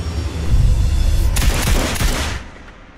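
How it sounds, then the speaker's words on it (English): A burst of rapid gunfire from a movie trailer for an embassy siege thriller, loud and dense, overlapping booming music that fades out at the end. "Shots fired in the embassy."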